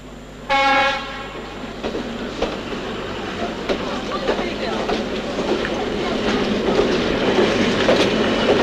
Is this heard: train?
yes